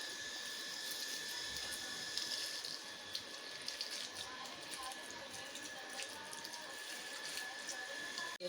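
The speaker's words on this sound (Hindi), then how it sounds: "अब इसको अच्छी तरह पानी से धो लूँगी" Blankets being rinsed by hand with water in a tub, a steady running splash and swish of water continuing throughout at moderate level.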